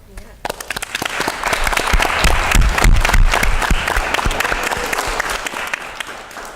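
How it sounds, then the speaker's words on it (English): A large audience at a teen summit event applauds guest speakers: dense, loud clapping breaks out after a brief pause and holds steady for several seconds, with some crowd noise mixed in. "we would like one more round of applause for our amazing guest speakers"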